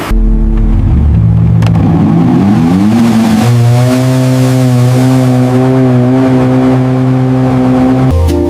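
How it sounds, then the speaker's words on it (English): A restored yacht's engine runs steadily and loudly, a deep droning hum that climbs in pitch over the first few seconds, then holds an even tone until it drops off abruptly near the end. "The engine is running perfectly."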